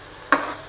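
Onions frying in a pan for chicken curry, a sudden sizzle bursting up close and continuing steadily.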